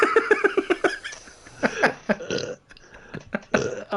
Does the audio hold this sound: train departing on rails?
no